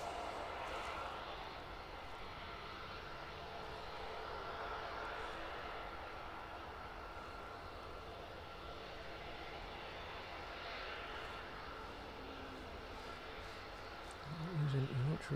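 An airliner departs the runway at East Midlands Airport in the evening on a light service to Wrocław, its engine roar steady and distant, with someone talking over it.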